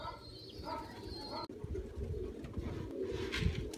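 Pigeons cooing in low, throaty bursts near a loft during flight training of squeaker pigeons, with soft bird chirps and outdoor rustle around them.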